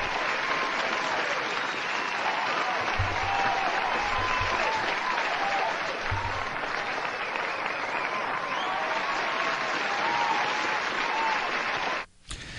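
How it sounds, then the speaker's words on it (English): A studio audience breaks into loud, sustained applause with a few cheers mixed in, the dense clapping steady for about twelve seconds before cutting off abruptly near the end. "For those of you that guessed it, you deserve a great round of applause."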